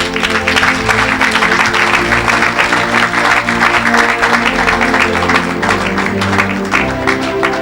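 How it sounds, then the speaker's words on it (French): A congregation at an evangelical church service claps and cheers loudly, sustained and dense throughout, with rapid overlapping claps and a steady roar of crowd noise. "Quelqu'un acclame le Seigneur."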